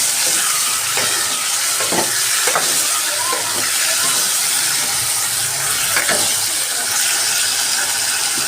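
Cleaned chicken pieces sizzle and fry in hot oil in a pan, with a steady hiss broken by occasional scraping knocks from a stirring spoon.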